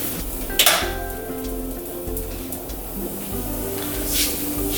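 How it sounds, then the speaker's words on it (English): Espresso from a moka pot boiling on a stove, a sizzling, spitting gurgle with metallic clinks of the pot and occasional hissing bursts, close and fairly loud with no talk. "our espresso has finished boiling"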